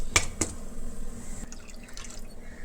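Water strained from milk drips through a cloth strainer, two sharp, close drips early on followed by a soft, continuous trickle of liquid.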